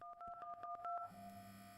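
Telephone keypad tones beep in quick succession as a number is dialed in a plane-accident investigation game, about eight short dual-pitched blips followed by a steady low hum.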